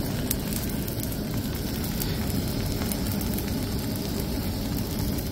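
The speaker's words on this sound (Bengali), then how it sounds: "এই দেখো আমি ডিম ভাজছি।" Loud, continuous sizzling of an egg frying in a hot pan, a dense unbroken hiss with faint crackles throughout and no talking.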